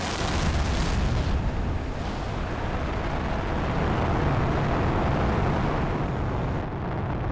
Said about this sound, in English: Our first rocket launch.